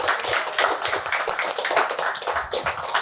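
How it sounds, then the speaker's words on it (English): A crowd claps steadily for a few seconds, dense and lively applause with no voices over it. "Let us give her a big hand again."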